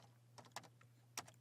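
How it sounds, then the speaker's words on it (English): A few sharp keystrokes tapped on a computer keyboard while typing a terminal command, with short clustered clicks over a steady low hum, close and quiet. "I'm going to type Python"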